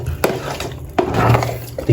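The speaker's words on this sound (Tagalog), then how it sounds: "So, panatilihin lang po natin yung ating paghahalo." A spoon stirs thick, creamy homemade ube halaya in a pot, making a few distinct scraping strokes against the pot with soft sticky squelches, close up and fairly loud.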